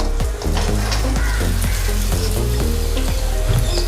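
Rose cookies (achu murukku) deep-frying in hot oil, a loud, dense, close bubbling sizzle that runs steadily throughout with no talk.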